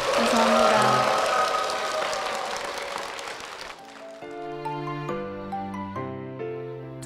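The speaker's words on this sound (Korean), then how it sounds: "우리 이 가정에 축복의 박수 힘차게 부탁드리겠습니다" A church congregation claps heartily in blessing for a family, as dense applause fills the first few seconds and gradually thins out before sustained musical tones take over.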